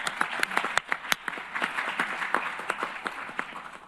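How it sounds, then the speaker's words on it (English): Applause for conference panelists, scattered individual claps from a modest audience, moderately close and uneven in rhythm, no talk. "a round of applause and appreciation for our first panelists"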